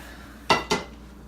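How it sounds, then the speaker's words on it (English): Two quick metallic clanks of a baking tray as a loaf of artisan bread is pulled from the oven, close and sharp against a quiet background. "Alright, time to take the bread out of the oven."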